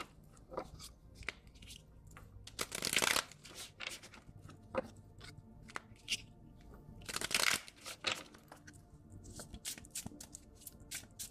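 Oracle cards are shuffled by hand in soft papery riffles, with two louder bursts of flicking and rustling among quieter handling sounds and no talking.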